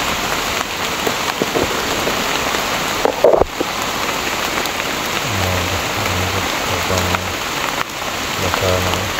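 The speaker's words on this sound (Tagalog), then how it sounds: "Lagi na lang umuulan." Heavy rain pours down in a constant close roar, with a sharp knock partway through and faint voices speaking briefly underneath.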